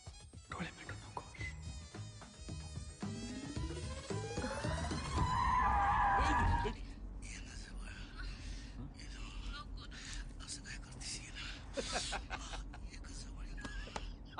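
A car brakes hard and its tires skid with a rising screech that lasts a few seconds during a Marathi comedy film street scene, then fades into quieter road noise with voices nearby.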